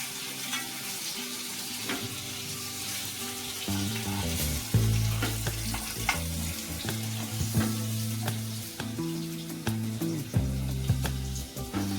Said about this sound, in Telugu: అటు ఇటు తిప్పుతూ బాగా వేగనివ్వాలి